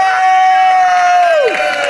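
At a comedy showcase, a loud, drawn-out whoop rises above a lively crowd, holds steady, then drops away as the cheering continues.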